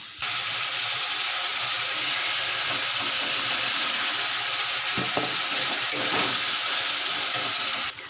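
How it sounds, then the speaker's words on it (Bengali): Spices go into a pan of fried onions, and a loud, continuous sizzling hiss carries on evenly from start to finish with no voices. "দেখো আমাদের পেঁয়াজটা ভাজা হয়ে গেছে এখন আমি যে মশলাগুলো করে রেখেছি এখন সম্পূর্ণ ছেড়ে দেবো মশলাগুলো"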